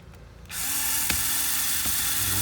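A cordless power drill runs in reverse, backing out bolts on an Alfa Romeo Giulia/Stelvio battery terminal, starting after a short pause and whirring steadily close by, with a brief click partway through.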